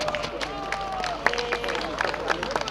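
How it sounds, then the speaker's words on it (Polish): Crowd applause welcoming a folk singing group at an outdoor town anniversary celebration in Lubawka, moderate clapping mixed with babble and a sustained tonal sound beneath. "Wielkie brawa!"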